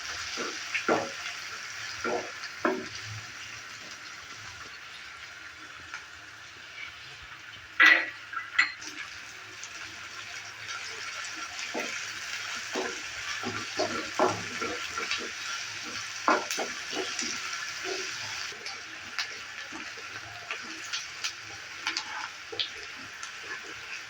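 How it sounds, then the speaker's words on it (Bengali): Chopped onion sizzles steadily in a hot pan for aloo soyabean curry, a constant frying hiss broken by scattered crackles and occasional scraping stirs, with no talking. "পেঁয়াজটাকে আমি ভালো করে ভেজে নেব।"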